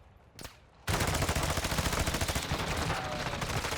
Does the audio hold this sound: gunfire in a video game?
yes